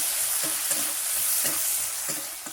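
Sliced onions frying in a pan after fish, a steady loud sizzle with a few soft stirring scrapes, alone without talk.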